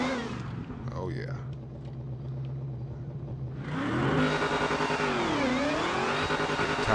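A muscle car in a drag racing video game idles with a low rumble, then bursts into a loud, sustained high rev with a wavering pitch as the tires spin, while a voice talks over the start.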